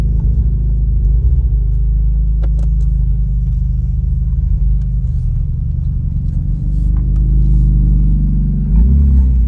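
A car running a Stage 2 tune accelerates with a steady, loud low engine rumble that holds throughout, the revs swelling briefly near the end, with no talking.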